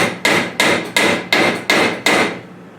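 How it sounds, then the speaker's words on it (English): Six evenly spaced, sharp blows from a 15-ounce DeWalt framing hammer ring out close and loud, each strike decaying quickly before the next, then falling quiet at the end. "the framing hammer sold by Dewalt"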